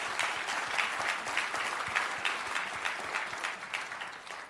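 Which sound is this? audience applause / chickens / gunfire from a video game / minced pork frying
audience applause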